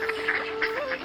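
Short cartoon duck quacks, four quick nasal calls in a bright rhythm, close and clear, for a hungry story about a grandmother's missing ducks.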